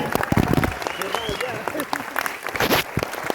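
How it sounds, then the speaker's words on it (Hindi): Applause from an audience at a leadership development training program in Delhi, choppy and uneven with a voice talking over the clapping throughout. "बढ़िया से ताली बजाओ, बड़ी मेहनत से हो रहा है,"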